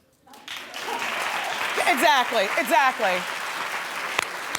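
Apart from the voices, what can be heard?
studio audience applause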